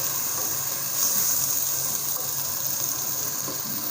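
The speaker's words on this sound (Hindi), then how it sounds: "वाटर जस्ट आप हाफ ग्लास इसमें डालें" Water is poured into a pan of roasting minced-meat keema, making a steady splashing gush that fills the clip without a break, close and fairly loud.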